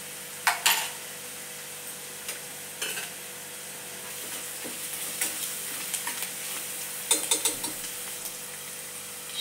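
Garlic, ginger and chili paste fries in a pan with a steady low sizzle, broken by scattered clinks and scrapes of a spoon against the metal.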